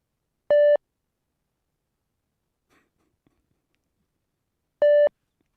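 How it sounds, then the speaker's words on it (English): Two identical short electronic beeps from a fitness beep test in the game Like A Dragon, spaced about four seconds apart and loud against near silence. "that's enough of the beep test"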